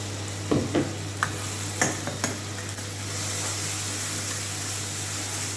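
Ginger, garlic, onion and chili paste with ground spices frying in a pan for a katla fish curry: a steady hissing sizzle with several sharp spatula scrapes and clacks early on, then unbroken frying noise over a low electrical hum.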